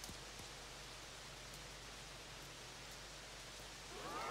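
Rain hisses as a soft, continuous wash in the Everybody's Golf video game, quiet and even with no voices.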